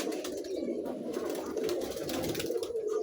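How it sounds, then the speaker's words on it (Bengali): Rajshahi Giribaj pigeons, with feathered feet, coo softly and steadily at close range, a low rolling murmur that runs continuously under faint hiss and background noise. "রাজশাহী গিরিবাস কবুতর অরিজিনাল কবুতর"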